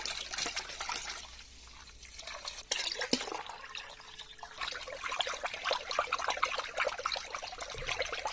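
Water poured and stirred into a fruit-tree spray mixture in buckets, a close, continuous splashing trickle with sloshing and clinks from mixing, no talking.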